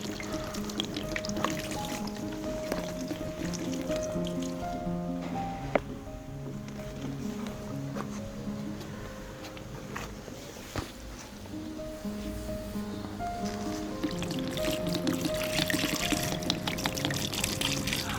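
Water poured steadily onto a waterproof fabric mattress, a continuous trickling and dripping wash with a few sharper drips, moderately close and running unbroken for the whole stretch.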